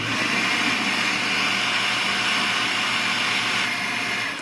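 Electric mixer or blender whirring steadily while mixing a homemade sausage mixture after water is added, a loud, continuous droning hum with no break.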